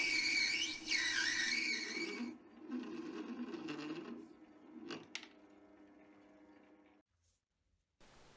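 A lathe in a home shed workshop parts off a small metal knob for a hand vise, making a high squealing, whistling cut that rings and changes pitch. Quieter machine hum and a couple of sharp metallic clinks follow before the sound stops abruptly.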